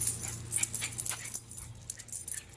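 An excited puppy, outdoors on a walk in the Smoky Mountains, gives soft, high whimpers and little yips in short bursts over a low steady hum, with no talking.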